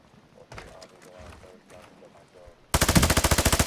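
Rapid, loud automatic AK47 fire in Call of Duty Warzone on the Vondel Park map bursts in near the end as a steady string of shots, following a stretch of players talking over quieter game sounds.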